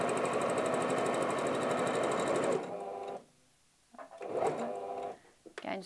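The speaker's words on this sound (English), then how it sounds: "just use the edge of the foot as a guide just to keep your stitching straight" A domestic sewing machine runs steadily while stitching a wallet seam, loud and close, then cuts off; brief handling noises and a short burst of whirring follow after a pause.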